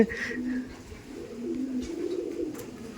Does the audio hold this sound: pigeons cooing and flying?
yes